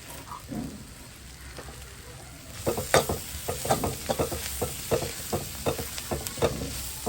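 Ginger, garlic and green chili sizzle and crackle in hot oil for a mushroom curry, with steady frying hiss and a series of rhythmic stirring scrapes growing louder partway through.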